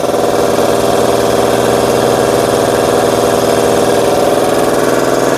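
A 6.2 CFM air compressor running a diaphragm pump for moving fuel and waste motor oil, holding about 55 PSI, makes a loud, steady mechanical drone with rapid vibrating pulses, close and unbroken.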